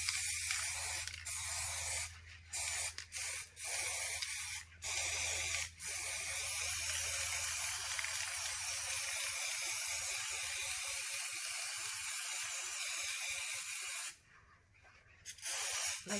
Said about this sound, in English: Now I'm going to just spray straight down.